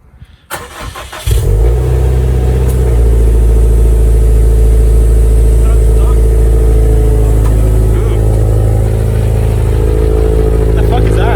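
A Mitsubishi Evo engine cranks and fires up about a second in, then settles into a loud, steady, rumbling run with throttle blips and revs; people talk over it.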